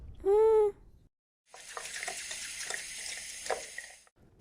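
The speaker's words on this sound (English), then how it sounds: "First, we fill a clean saucepan with tap water" Tap water running into a clean saucepan in an animated scene, a steady hissing splash of water after a short musical tone, stopping near the end.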